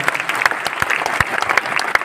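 Applause greets a speaker taking the mic at a seminar in Delhi's Talkatora Stadium: a dense, lively crowd clapping with sharp individual hand claps standing out, continuous throughout.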